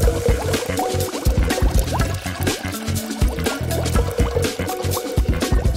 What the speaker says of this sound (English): And then pour on some resin.